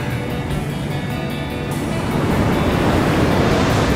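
Ocean surf breaking at Puerto Escondido, a loud continuous wash of churning water and wind that swells louder toward the end, with no talk.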